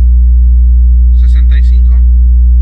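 A steady 60 Hz test tone plays through a fourth-order isobaric push-pull bandpass subwoofer box loaded with Genius Audio subs, holding as a loud, constant low hum while a voice speaks briefly over it.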